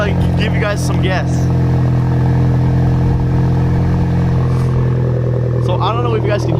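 A Hyundai Genesis with an ISR Racing catback exhaust idles loudly with a deep rumble, swelling slightly as the throttle is blipped, with a voice briefly over it.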